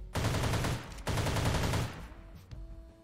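A modded firearm in the ARK video game firing NATO ammunition, heard as two rapid bursts of automatic gunfire, loud and close, with a short pause between them and a faint tail afterward.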